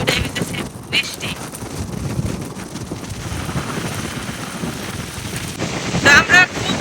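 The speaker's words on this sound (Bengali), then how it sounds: "এখন আবার বৃষ্টি আইতেছে" Rain falling in the hills near a river, a steady hiss of rain mixed with wind buffeting the microphone, with brief voices and a few sharp bursts near the end.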